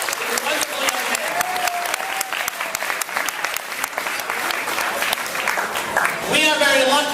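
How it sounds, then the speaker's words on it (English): Audience at a community dinner applauds two young singers, a steady wash of dense clapping that runs throughout, with a voice beginning to speak over it near the end. "First, give them a round of applause."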